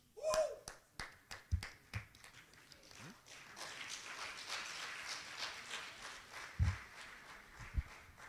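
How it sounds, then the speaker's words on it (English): At an awards ceremony for a capital market university challenge, a few sharp, separate claps ring out before building into a faint, scattered round of audience applause that carries on quietly in the background. "A hand of applause once again, ladies and gentlemen."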